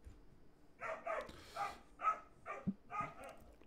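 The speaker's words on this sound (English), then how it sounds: "Barking to one of the other animals." A new puppy barks in a string of short, sharp yips, about eight in quick succession, heard indoors at a moderate distance.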